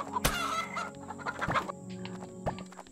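Chickens in the farming game Garden Paws cluck in short bursts, with a louder squawk near the start and a few sharp clucks later, over faint background game music.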